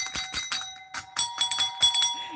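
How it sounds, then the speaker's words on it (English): A small repaired bell, part of a mixed media ice skate rock art arrangement, jingling in a series of bright, quick strikes with short pauses between them, close and clear. "I fixed the bell."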